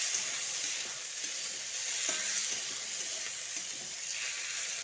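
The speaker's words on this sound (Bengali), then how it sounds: "এবার এর মধ্যে সেদ্ধ করে নেওয়া শিমগুলো দিয়ে দিচ্ছি। তারপর সব কিছু একসঙ্গে ভালো করে মিশিয়ে নিচ্ছি।" Boiled flat beans are stirred into fried onions in a pan, giving a steady sizzle with soft scraping and clinks of the spatula as everything is mixed.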